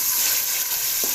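Minced meat sizzling in ghee in a pan while cooking for a pea and keema curry, a continuous close hiss with one faint scrape near the end and no voices.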